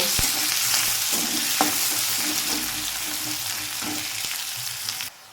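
Chopped onion and crushed garlic fry in a pan for a dhaba-style ghugni, giving a steady close sizzle with a few soft stirring clicks and scrapes, then a sudden drop to quieter frying near the end.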